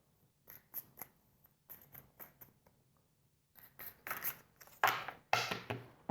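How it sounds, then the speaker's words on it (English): Tarot cards being cut and handled, a series of soft crisp slaps and shuffling riffles, sparse at first then louder bursts near the end, close and quiet with no talking. "But I'm going to cut the deck."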